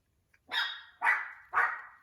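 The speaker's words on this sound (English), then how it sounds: "The dog is doing her thing. If she sees a delivery person," A dog indoors at a house gives three sharp barks in quick succession, close and fairly loud, with near silence between them.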